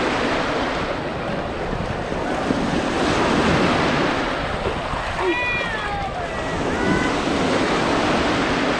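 Ocean waves break and wash steadily on Clearwater Beach, a continuous broad surf roar with wind buffeting the microphone; faint gull-like calls rise briefly midway.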